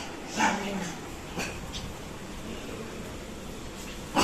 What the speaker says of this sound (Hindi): किस पे भौंक रहे हो?